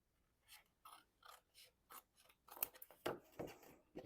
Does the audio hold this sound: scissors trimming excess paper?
yes